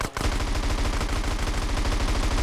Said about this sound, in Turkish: Adam bizi vuruyor, biz onu göremiyoruz yalnız.